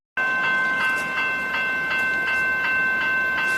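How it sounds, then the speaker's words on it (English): The Ballarat beer festival train passes close by, a loud sustained rumble with a regular clickety-clack of wheels over rail joints and a bright ringing tone above it. "The beer train's now heading down towards Elaine"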